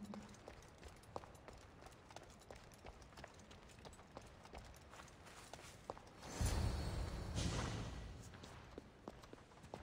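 Horse hooves clop steadily in Assassin's Creed Odyssey, a light rhythmic trot under game ambience, with a louder rushing swell midway.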